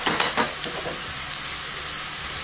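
Onions and spices with chili powder and coriander powder sizzle steadily in a pan for tomato kurma, a soft continuous hiss with a few faint stirring scrapes near the start and no talking.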